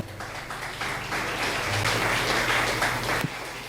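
Church congregation applauding together, a broad steady wash of many hands clapping at moderate distance, sustained for a few seconds with a faint low hum beneath.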